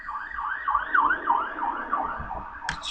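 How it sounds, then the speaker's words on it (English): An emergency siren wails outside as it passes by, its rising and falling tone fairly faint and distant, followed by a short sharp sound at the end. "Just siren passing by"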